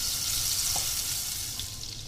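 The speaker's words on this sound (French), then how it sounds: "mon beurre que je vais faire fondre." Butter melting in a saucepan on the stove for a béchamel gives a steady, close sizzle and gentle frying crackle that runs unbroken throughout, with no voices.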